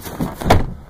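A car door slams shut once, a single loud, close thump in the middle of a brief, hectic moment with rustling around it.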